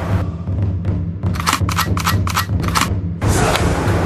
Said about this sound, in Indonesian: Kita test pistol pula.